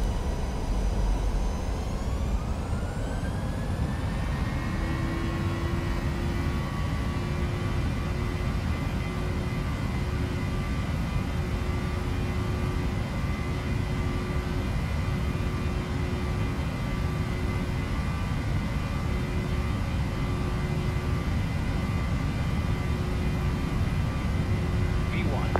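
A PMDG 737NG jet in a flight simulator rolls down runway 28 for takeoff, its engines spooling up into a steady, loud roar that holds throughout, with radio voices on top.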